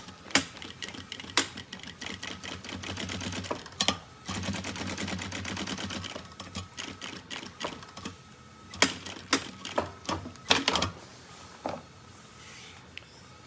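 A sewing machine runs a line of stitching along the edge of a school backpack, joining faux leather to its lining, in rapid mechanical bursts with brief pauses and sharp clicks between runs.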